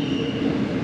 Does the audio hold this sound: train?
yes